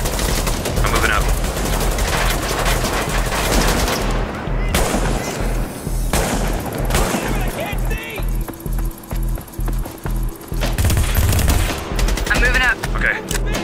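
Heavy gunfire in Tom Clancy's The Division, set in Manhattan, with repeated automatic bursts and single shots, loud and nearly nonstop, and a rhythmic run of evenly spaced shots partway through.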